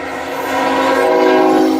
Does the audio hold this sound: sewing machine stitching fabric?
no